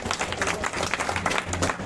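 A crowd at a protest site claps in welcome for an arriving saint, a dense, fairly loud burst of applause with a murmur of voices underneath, holding steady for a couple of seconds.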